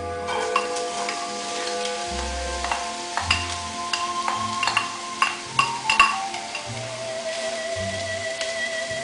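Chopped onion frying in hot fat for beef goulash, a continuous crackling sizzle with scattered pops and stirring knocks, close and clear, no voices.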